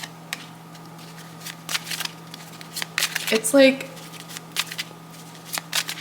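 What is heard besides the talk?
shuffling tarot cards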